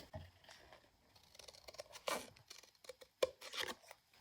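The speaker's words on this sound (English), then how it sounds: "I can do that with my scissors, just from the hole to the end of the circle." Scissors snip a slit through a photo, giving a few short, crisp cuts with light paper rustling in between, close and moderately quiet, with one sharp snip standing out near the end.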